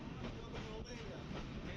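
Steady interior rumble of a Maha Kumbh Mela special passenger train travelling from Mancherial to Prayagraj, a dense continuous rolling roar with faint rhythmic wheel clatter, close and constant throughout.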